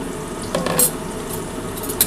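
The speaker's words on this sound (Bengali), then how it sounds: "এটা একটু সামান্য জল দিয়ে গুলে নিচ্ছি।" A spoon stirs chili powder, Kashmiri chili powder, turmeric, sugar and salt with a little water, giving a few soft scraping and clinking strokes against the bowl.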